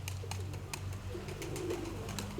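Soft, low cooing from a weak pigeon repeats through a steady background hum, with faint clicking taps scattered across.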